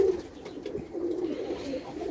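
Domestic pigeons in a loft coo steadily in a low, continuous murmur of overlapping calls, close by and moderately loud, with no one speaking.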